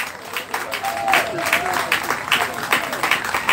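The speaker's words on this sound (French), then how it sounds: "Nous remercions de l'applaudissement." An audience at a concert applauds with dense, steady clapping, while a voice talks faintly over it.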